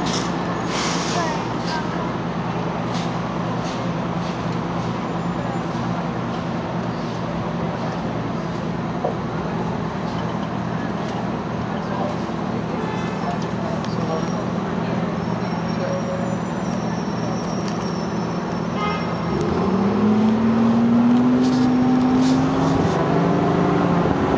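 Steady traffic rumble heard from inside a city bus in Manhattan, New York, with engine drone throughout, scattered knocks and clatter, and a rising engine whine near the end; faint voices sit under the noise.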